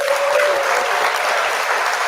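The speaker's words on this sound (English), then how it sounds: "let's give Brian a baseball clap right there" Audience applause during a tricking Q&A session, a continuous, even rush of many people clapping at once, loud and full for the whole stretch with no voices on top.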